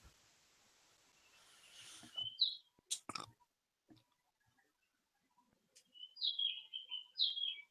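Birds chirping in short, high bursts against near silence, a few isolated clicks and knocks in between, fairly faint and distant.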